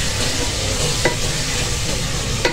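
Potato and cauliflower sabzi with coarsely cut green chilies frying in a pan with spices, giving a steady close sizzle with a couple of brief scrapes from stirring.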